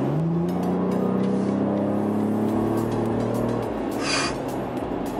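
A 2018 Chevrolet Colorado ZR2 pickup accelerates hard toward 60, its engine note rising loud and close before easing off as the truck settles into a cruise.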